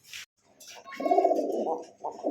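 Pigeons coo on a Bangladeshi pigeon farm stocked with high-quality fancy breeds: a brief chirp, then a steady, fairly close rolling coo lasting about a second, followed by another coo starting up.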